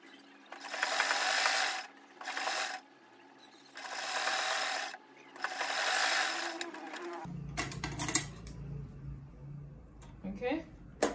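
Home sewing machine stitching the curved seam of a women's trouser pocket, running in several bursts of a few seconds each with short pauses between, followed by handling noises and quieter mechanical clatter near the end.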